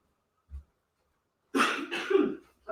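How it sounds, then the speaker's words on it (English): One faint throat sound, then after a pause a harsh double cough from someone with bronchitis, close and loud, with the start of another cough at the end. "I've still got a shocking cough too."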